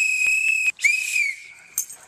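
A whistle is blown by a protester at a community rally against stop-and-frisk policing: a long, piercing shrill blast, a brief gap, then a second sustained blast and a short final chirp, loud and close.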